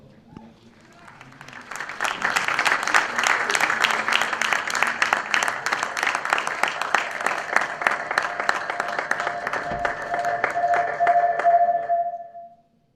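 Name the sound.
audience applause for tournament champions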